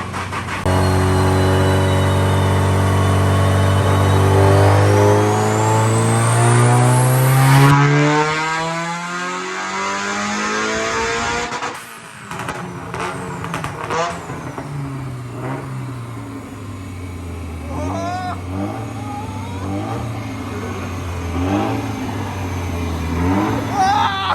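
A boosted Nissan SR20 engine in an S13 chassis, built to roughly 400 wheel horsepower, revs hard on a dyno, its loud close roar sweeping up through a long pull, cutting off, then settling into a rougher, uneven run.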